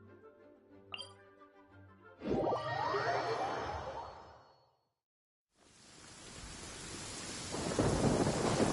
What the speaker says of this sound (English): Many people dread the sound of thunder. To me, it sounds fondly familiar.